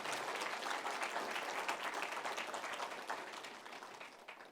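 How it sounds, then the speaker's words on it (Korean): Applause from a church congregation during a Sunday worship service, a dense steady clatter of many hands that holds for several seconds and slowly tapers off toward the end. "박수로 한번 우리 교회 드리겠습니다"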